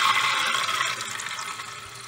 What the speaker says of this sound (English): and turn our water on